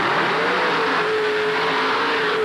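An alcohol-fueled Chevy Big Block with a two-speed Powerglide roars steadily at a 1988 USHRA monster truck event in Pittsburgh, a loud continuous engine drone mixed with crowd and arena noise.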